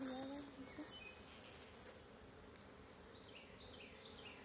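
Honeybees buzzing around an open hive during an inspection, a faint, continuous drone with a few brief higher whines as bees fly past, quiet and close-miked against a hushed outdoor background.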